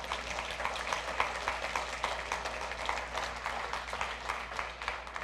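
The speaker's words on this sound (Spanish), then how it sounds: "Démosle un aplauso al Señor." Church congregation applauding during a Spanish-language worship service, a steady dense wash of many hands clapping throughout, moderately loud and without a break.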